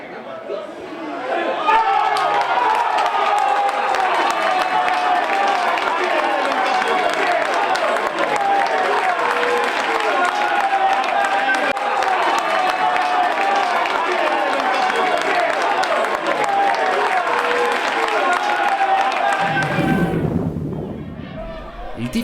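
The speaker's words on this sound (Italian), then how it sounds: "Il tifo per la squadra ospite cresce" A football crowd at a match between Tortolì and Bari Sardo cheers and applauds for the visiting side, a loud sustained roar with clapping and chatter that fades out near the end.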